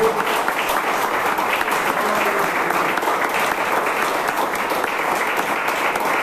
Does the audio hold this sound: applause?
yes